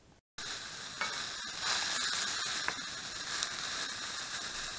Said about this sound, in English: I'm starting my stir fry by just frying off some mushrooms